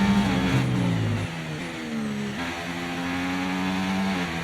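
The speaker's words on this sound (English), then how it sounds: "Our engine isn't really peaking at all," An F1 car engine in the F1 24 game at Bahrain, a loud, steady high-pitched whine that shifts gear and climbs again as the car accelerates, alone without talk.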